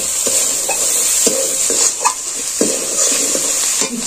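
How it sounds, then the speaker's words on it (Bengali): Cauliflower and mackerel with spices stirred and fried in a pan: a steady loud sizzle with repeated scraping strokes of the spoon at an irregular rhythm, close up and with no voices. "ভালো করে নেড়ে চেড়ে কষিয়ে নিচ্ছি।"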